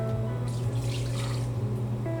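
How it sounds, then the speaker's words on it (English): Water being poured from an Instant Pot into a pot, a steady splashing pour that swells for about a second before tapering, set over a constant low kitchen hum. "And I'm going to dump the rest of this water"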